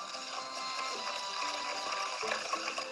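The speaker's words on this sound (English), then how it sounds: "Ready? And whisk." An electric whisk whirs steadily through dessert batter for a Valentine's Day dessert, a continuous buzzing drone with a faint shift in pitch near the end, close and fairly quiet.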